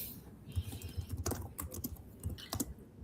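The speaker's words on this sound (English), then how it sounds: "I'm typing my email in the chat." Keys clatter on a computer keyboard during a remote meeting on damage assessments, a close, irregular run of taps and clicks with a few louder strokes, heard alone without voices.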